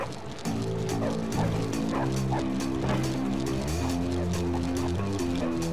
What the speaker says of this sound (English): Fucking dogs, yo.